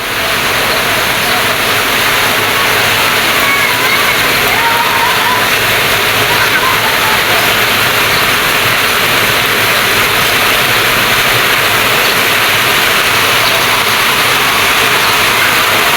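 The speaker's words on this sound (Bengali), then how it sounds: "আপনারা হয়তো বৃষ্টির শব্দ শুনেই বুঝতে পারছেন যে কত বৃষ্টি হচ্ছে" Heavy rain pours down in a steady, dense roar that stays loud and unbroken throughout, with no let-up or pauses.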